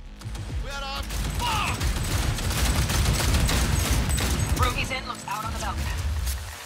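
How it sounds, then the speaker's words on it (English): Shotgun fire in Cyberpunk 2077, a rapid barrage of loud blasts and mechanical clatter in a busy combat mix, with a voice speaking briefly over the shooting. "Ooh, it's shotgun."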